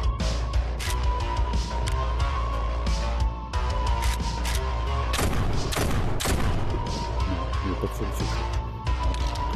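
Gunfire in the VR video game Shotwood crackles in rapid, loud volleys of shots over a steady game background, with someone talking over it.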